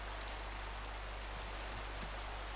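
Rain falls in the Minecraft video game, a steady, soft hiss of drops that continues evenly throughout, faint and without voices, ending on a brief click.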